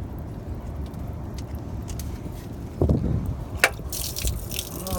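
Coolant draining from the radiator drain of a 2005 Subaru Outback 3.0: a steady low gush of liquid runs throughout, with a few splashes and a small metallic clink near the end, heard up close with no talk.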